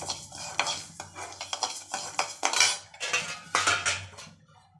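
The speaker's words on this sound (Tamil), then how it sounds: "நான் இட்லி அரிசி எடுத்து வச்சுருக்கேன் இது வந்து முதல்ல வறுத்துக்கணும்" Idli rice dry roasting in a pan for homemade sambar powder, grains rattling and scraping as a spoon stirs them in repeated bursts, with clinks of metal against the pan throughout.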